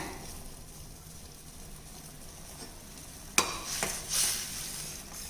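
Quiet bubbling and sizzling of chutney boiling in a pan, followed by a sharp utensil clink and a louder burst of spattering near the end.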